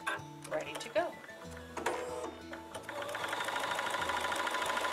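An embroidery sewing machine cuts a fabric template held in a hoop for machine English paper piecing, the fabric stiffened with Best Press; a steady, fast mechanical stitching rattle builds and runs continuously, with a voice talking over it.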